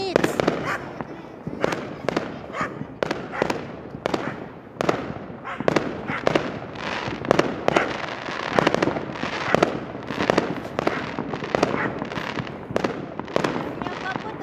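New Year fireworks and firecrackers explode again and again over about fifteen seconds, sharp loud bangs and crackling bursts following each other at an irregular, rapid pace.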